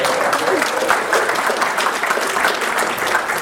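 An audience at an author talk claps in a dense, sustained burst of applause that fills the room evenly from start to end.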